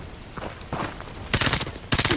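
Heavy automatic gunfire from Call of Duty: Modern Warfare 2, with quieter scattered shots giving way to two loud, dense sustained bursts close by, no talking.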